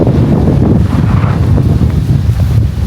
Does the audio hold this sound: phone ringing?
no